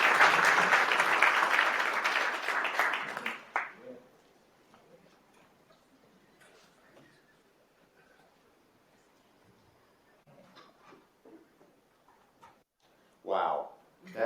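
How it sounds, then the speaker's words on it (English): Audience applause at a livestreamed event rises as a dense burst of clapping for a few seconds, then fades into sparse claps and quiet, with a short renewed burst near the end. "Let's give them a round of applause"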